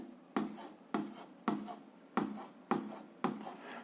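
Chalk or marker strokes on a board during a physics lesson, six quick, evenly spaced scratches, each a sharp onset fading out, fairly quiet and close, with no talk over them.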